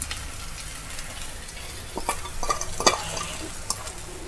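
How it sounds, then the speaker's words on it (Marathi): Soaked poha flakes with turmeric going into a hot pan for kande pohe, making soft sizzling and frying noise with a few light stirring scrapes and taps, close and fairly quiet. "थोडीशी हळद, ते भिजवून घेतलेले पोहा टाकते."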